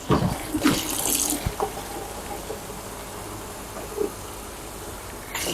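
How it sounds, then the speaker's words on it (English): Water pours in a steady hissing stream, with a few small splashes and clunks along the way and a brief louder spatter near the end; no one speaks. "All right, pouring some water."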